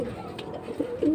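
Racing pigeons give soft throaty coos in short bursts, close by in a loft.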